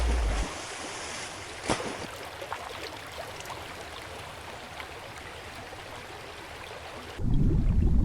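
Gentle flowing river water at a zebra crossing point with a gentle bank, a steady soft wash and rush running for several seconds, a sharp knock near the start and a louder low rumble at the end.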